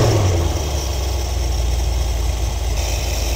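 A 1973 Ford Econoline engine with an Edelbrock carburetor idles steadily up close, a loud continuous low rumble with even pulsing and no revving, alone without voices.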